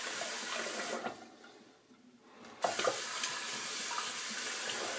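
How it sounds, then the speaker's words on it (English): Water runs steadily from a tap into a shaving brush bowl, stops for about a second, then starts again, close and fairly quiet. "Gonna get a little bit of water in here."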